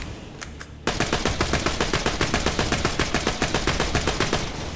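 Rapid-fire automatic weapon in Borderlands 2 opens up after a quiet second, loud sustained bursts of evenly spaced shots running steadily to the end, no talking.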